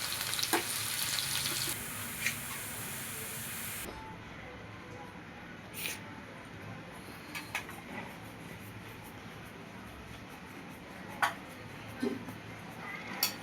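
Chopped onions frying in a pan for chicken dum biryani, a steady broad sizzle that drops in intensity partway through, with occasional clicks and scrapes of stirring, close and continuous without talk.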